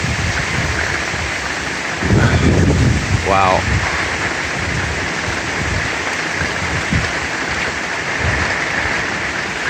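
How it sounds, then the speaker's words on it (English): Heavy rain pours steadily during a thunderstorm, a loud dense hiss with a low rumble of thunder rising partway through, and a person exclaims briefly over it. "There's actually a lot of rain."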